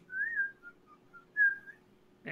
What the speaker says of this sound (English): she's whistling as she walks down the side road